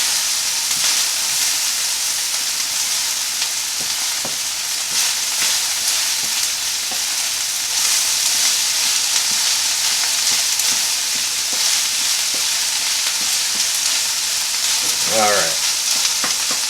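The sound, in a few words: ginger pork frying in its residual fat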